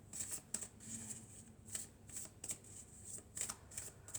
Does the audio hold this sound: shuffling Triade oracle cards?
yes